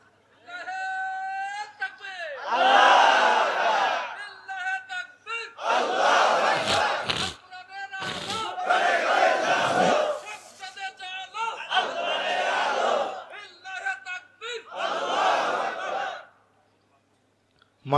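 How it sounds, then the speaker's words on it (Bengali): A crowd at a Bangla Islamic sermon shouts takbir together in several loud, unison bursts separated by short pauses, with a single voice leading between the shouts. "মাশাআল্লাহ, সুন্দর একটা তাকবীর হয়েছে।"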